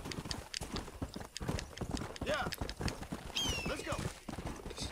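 Horse hooves clip-clop steadily as a horse climbs a steep slope in Red Dead Redemption, with a brief whinny partway through; people talk over the hoofbeats.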